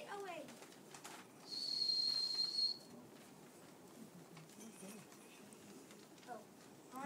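A loud, steady whistle blast, standing in for the Polar Express train whistle in a fourth-grade school play, rings out for about a second over a low room murmur of audience noise.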